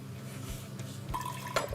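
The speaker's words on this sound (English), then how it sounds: "now we're just going to pour the grapefruit juice through a fine mesh strainer" Grapefruit juice pours through a fine mesh strainer, a soft trickle with a few small clinks of glass near the end.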